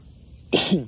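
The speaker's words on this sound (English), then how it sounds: "Then it was only 2 sneezes." A single short, sharp burst like a sneeze, close and fairly loud, breaking over a quiet background with a steady high-pitched tone.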